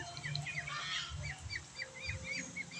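Several ducks call in short, repeated nasal honks, scattered across the moment at moderate distance, with no talking.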